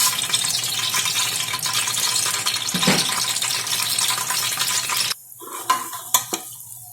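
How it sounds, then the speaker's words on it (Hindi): Whole spices (cardamom, cloves, a small cinnamon stick, cumin seeds and a bay leaf) crackle and sizzle loudly in hot oil for about five seconds, then the hiss drops off abruptly, leaving a few sharp spatters and clinks. "इलायची, 4 लौंग, छोटी सी cinnamon stick, half tea spoon जीरा और 1 तेजपत्ता तेल में डालेंगे"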